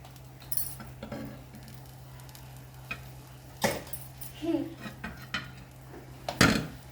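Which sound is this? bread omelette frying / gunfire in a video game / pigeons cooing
bread omelette frying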